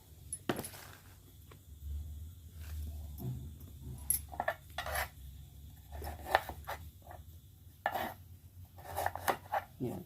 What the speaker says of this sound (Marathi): अशा पद्धतीने आपल्याला कापून घ्यायचं आहे